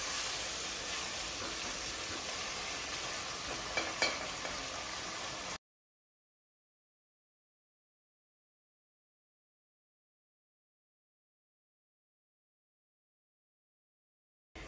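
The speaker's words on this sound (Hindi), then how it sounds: "और इसको फ्राई करेंगे" Chicken keema frying in a pan with salt, a steady broadband sizzle for about five seconds, then cutting to silence with a brief burst at the very end.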